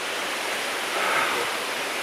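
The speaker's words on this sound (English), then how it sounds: "So this is first stage of our waterfall." The first stage of a waterfall in the cold Caucasus mountains roars as a dense, steady wash of falling water, close and continuous with no voices.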